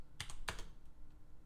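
Keys tapped on a computer keyboard in a few quick separate strokes, close and fairly quiet, with pauses between presses and no talking.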